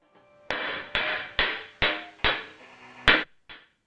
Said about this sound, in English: another video here of you making, hammering the cymbal or the bow of the cymbal